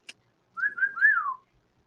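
A person whistles a short three-part tune, rising and sliding down, clear and close, after a brief click; no talking.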